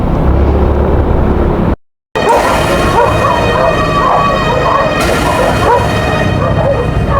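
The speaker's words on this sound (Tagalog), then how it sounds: "Daming aso." Several dogs bark and yelp together in a dense, continuous chorus, briefly cut off by a short gap of silence.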